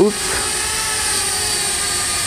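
A small drone hums with a steady high-pitched whine that holds evenly throughout.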